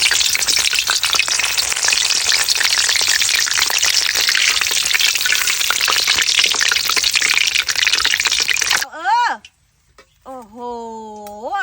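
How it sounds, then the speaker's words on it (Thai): Mulberry leaves frying in a pan over charcoal, a loud dense crackling sizzle for most of the time, ending abruptly before someone speaks. "เดี๋ยวเราเริ่มทอดกันเลยนะครับผมมา ใส่ลงไปเลย"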